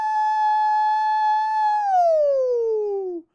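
A voice imitates a siren, holding a steady high wail and then sliding downward in pitch before cutting off abruptly.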